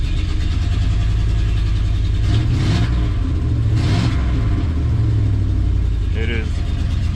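A cheap Ford's engine idles roughly on seven cylinders, a loud, uneven low rumble running continuously close by with a couple of brief surges.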